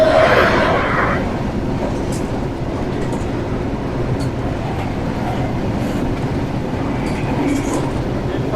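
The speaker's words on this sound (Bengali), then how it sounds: "আমি ফার্স্ট টাইম রূপসা ট্রেনে চলছি।" Rupsha passenger train running on the rails in northern Bangladesh, heard from inside as a loud continuous rumble with rhythmic rail clatter throughout.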